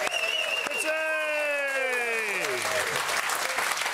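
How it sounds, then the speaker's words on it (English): Studio audience applauding a guest on an Australian football panel show, a dense, steady burst of clapping and cheers lasting several seconds, with a loud voice shouting over it near the start. "It's just refreshing to have footy supporters clap me again because it's been a while."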